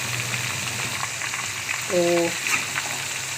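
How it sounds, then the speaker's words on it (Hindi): Fish pieces frying in hot oil for fish korma, a soft steady sizzle with a brief tonal clink partway through and a short spoken word. "ये हमने तेल में डाल दी है फ़िश, थोड़ी सी ये फ्राई करेंगे"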